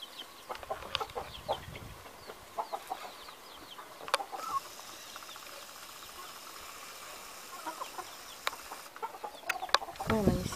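Hens scratching and foraging in a garden give scattered soft clucks and rustles, fairly faint, with a short louder burst near the end and no talking.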